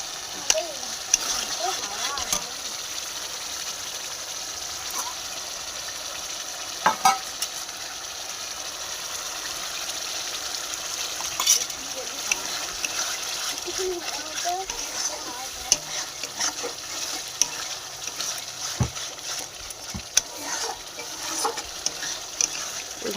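Chicken pieces with turmeric, salt and spices being sautéed and stirred in a pan, a steady close sizzle broken by occasional scrapes and clinks of the spoon, with no talking over it.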